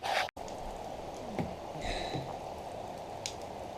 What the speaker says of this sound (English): Flipping raining.